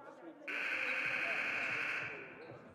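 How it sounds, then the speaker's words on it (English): Game buzzer at a high school girls' basketball game sounds one long, loud, steady blast lasting over a second, then cuts off as gym noise and a faint commentary voice continue. "You hear the buzzer sound, and here we go."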